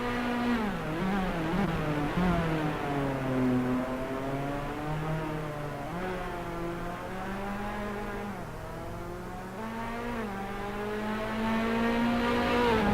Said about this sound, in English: hitting the rev limit there